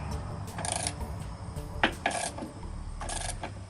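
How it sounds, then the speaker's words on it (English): Bottom nut being tightened on a Monster Moto mini bike during assembly: short metallic ratcheting and rasping bursts from a wrench, close and moderately loud, with no talking. "you tighten the nut on the bottom"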